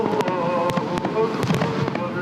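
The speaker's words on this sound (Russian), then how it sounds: "Фейерверки возвещают об окончании поста и начале времени праздничных широких застолий." Fireworks marking the end of Ramadan in Ingushetia crackle and pop in a dense, steady barrage, with sharp loud bursts rising over a continuous rumble of more distant explosions.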